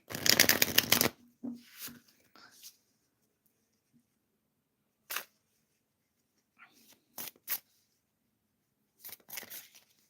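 A crisp riffle of tarot cards being shuffled, followed by scattered soft card flicks and slaps separated by quiet pauses, close and intimate.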